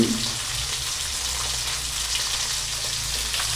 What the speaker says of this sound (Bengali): দেখুন দর্শক বন্ধুরা আমার ডিম কটা লালচে ভাজা হয়ে গেছে।